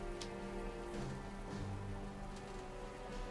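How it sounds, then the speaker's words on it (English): Steady rain patters in The Legend of Zelda: Breath of the Wild, a constant even hiss of drops on surfaces with no voices. "Oh no, it's raining."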